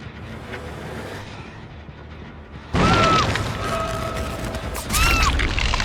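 Mechanical cranking and clanking from a generator under repair in a horror video game, rising abruptly to a loud, busy, metallic clatter partway through, with bright whirring tones layered on top and a second surge near the end.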